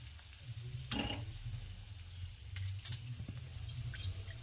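Wheat and jaggery papdi puris sizzle in hot oil with a steady, close frying hiss, broken by a few brief scraping and stirring clatters as they are lifted out to drain.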